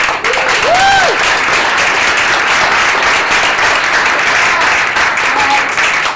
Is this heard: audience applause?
yes